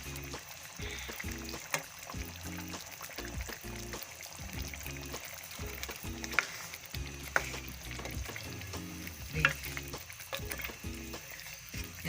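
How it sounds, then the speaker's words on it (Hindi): Garlic and onion frying in a pan for white chicken karahi, a steady close sizzle with intermittent stirring scrapes and clicks running throughout, no voices. "ये लहसुन प्याज सारा कुछ डाला है ना, तो भूनना है इसको अच्छी तरह।"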